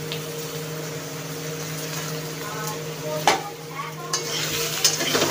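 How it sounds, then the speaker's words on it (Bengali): Cut potatoes frying in oil in a pan over cumin, a steady close sizzle with a few sharp clinks of a utensil, and brief speech in the background. "আলুগুলো একটু ভেজে নিই।"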